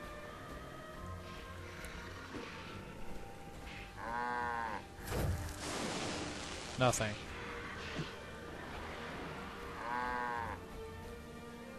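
Cows in the video game Guild Wars 2 give two drawn-out lowing calls, one early and one late, amid clattering in-game sounds, while someone talks over much of the scene.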